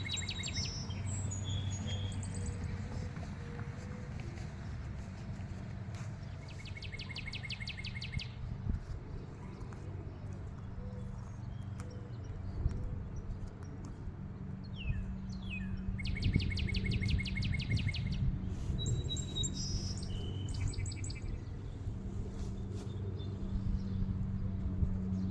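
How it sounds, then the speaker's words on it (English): Birds singing on a morning in a rose garden, repeated bright trills and chirps from several birds at moderate distance over a low steady background hum. "I'll let you listen to the birds while I work."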